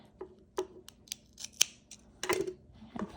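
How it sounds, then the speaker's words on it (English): Scissors snipping through yarn while making a crochet tassel, several sharp close metallic clicks and cuts in quick succession. "cut my yarn,"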